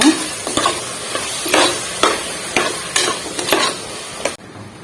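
Tomato and freshly ground masala sizzle in a pan, with repeated scraping stirs of a spoon or spatula cutting through the frying hiss at a fairly steady rhythm, close and loud with no talk.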